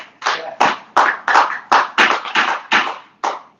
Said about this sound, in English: our rules provide for no applause that intimidates others